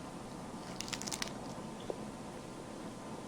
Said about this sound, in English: These are your kale chips. I'm going to eat one.